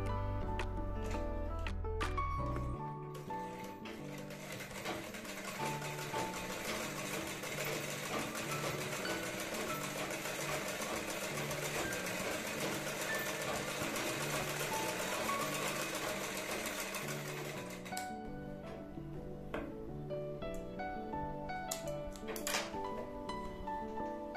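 A sewing machine stitches a blouse with a steady, continuous mechanical run lasting most of the stretch, stopping near the end, with a brief low hum at the start and light handling knocks afterward.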